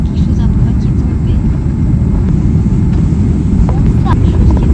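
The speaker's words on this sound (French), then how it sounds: "Allez, l'avion. Décolle, décolle, décolle, décolle." Airplane taking off, a steady loud roar of engine and airflow filling the whole clip, heard from close by, probably from inside the aircraft, with faint voices under it.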